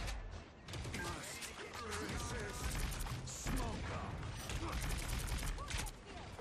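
Punisher's turret in Marvel Rivals fires a dense, continuous stream of rapid mechanical gunfire at close range, steady for several seconds with a brief dip near the start, under faint voices.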